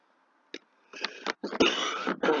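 A few harsh coughs from a nearby person, one short burst followed by a longer, rougher run of coughing.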